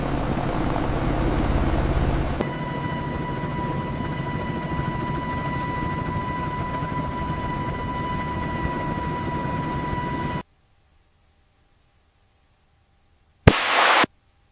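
A 1956 Bell UH-1 Iroquois Huey helicopter taxiing gives a loud, steady turbine roar with a high whine and a deep rotor throb, cutting abruptly to near silence before a short burst of noise at the end.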